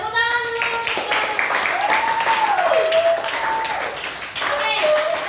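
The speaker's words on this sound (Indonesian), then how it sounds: "Oke, tepuk tangan dulu." A class of students claps together during a maths lesson, with steady, fairly loud applause and a teacher's voice speaking over it.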